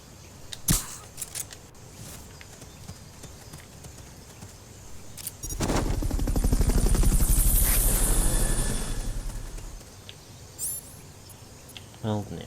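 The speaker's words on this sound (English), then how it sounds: "Fulton recovery helicopter is complete." The Fulton recovery helicopter in the video game Metal Gear Solid Peace Walker swells into a loud rotor roar over a few seconds and then fades, amid scattered sharp game effects.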